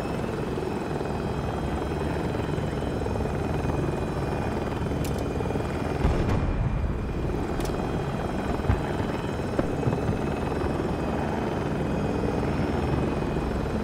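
A helicopter in a video game thrums with a steady rotor and engine drone, loud and continuous from inside the aircraft, with a couple of brief sharp clicks partway through.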